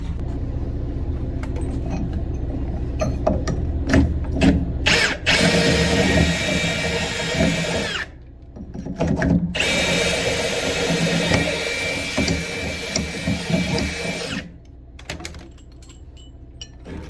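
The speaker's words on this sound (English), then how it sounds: "start drilling holes and anchoring the tube." Power drill boring holes into a concrete pad to anchor a drainage tube at a farm pumping station, loud, close bursts of grinding drill noise separated by brief pauses, with no speech.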